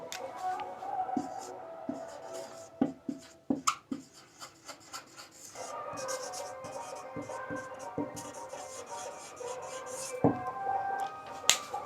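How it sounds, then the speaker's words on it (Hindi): A pen or marker writes the names of the salivary glands on a board, close scratchy strokes and taps in irregular bursts with a few sharp clicks, no speech over it. "मैं उनका नाम भी लिख देता हूँ"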